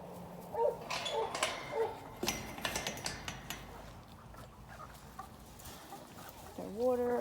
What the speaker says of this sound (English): This is the new rooster that we got right here